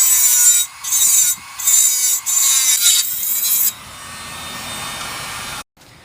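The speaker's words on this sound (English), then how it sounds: "Once I just made a line, you can just cut through it." Sawing through a plastic cold air intake pipe on a 2003 Honda Civic LX: four loud, bright rasping strokes with short gaps, then a quieter, duller stretch of cutting before it stops.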